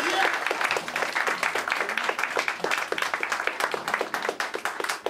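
A concert audience claps steadily, a dense patter of many hands applauding together at an even level throughout.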